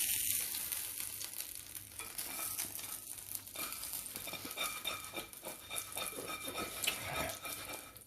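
Chicken kotlety frying in a frying pan, with a continuous close sizzle and crackle, plus light scraping and clinks of a utensil against the pan.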